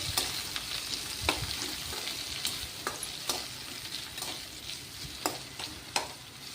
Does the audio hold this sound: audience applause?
no